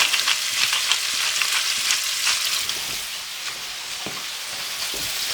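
Beef chunks frying in a hot pan for a steak and Guinness pie give a loud, dense crackling sizzle that carries on steadily, fading a little toward the end, with occasional stirring sounds and no speech.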